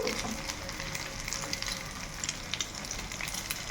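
Chow mein sizzles and fries steadily in a wok over medium-low heat, pressed flat into the pan for a chow mein pizza, with a continuous close crackle and faint scraping throughout.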